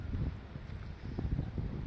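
Strong evening wind blows outdoors in Garhwa, Jharkhand, carrying dust and litter, a steady low roaring rumble that buffets the microphone throughout, with no talk.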